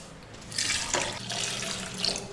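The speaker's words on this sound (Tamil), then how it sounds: "ஒரு 2 கப்பு தண்ணி ஊற்றுங்க." Water poured from a tap into a pressure cooker holding potatoes, a short splashing, gurgling stream that starts abruptly and runs steadily for about two seconds, close and alone.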